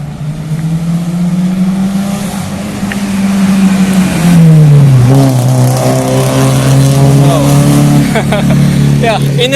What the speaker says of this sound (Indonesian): ada suara mobil-mobil yang keren gitu ya, mobil lama, jadi tambah ya knalpot racing